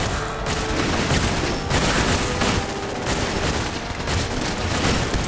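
Dense, continuous gunfire from Fallout 4 during the Automatron add-on, with overlapping rapid shots and bursts sounding close and loud throughout, with no talk.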